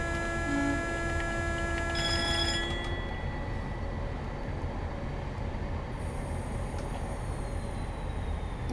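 Class 50 diesel locomotive cold-starting in Train Simulator, with a steady low rumble under several tonal whines and hisses that fade out early on, then a continuous engine drone.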